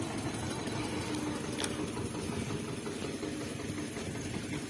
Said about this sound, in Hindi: अरे रहे भैया ट्रैक्टर चला रहे हैं।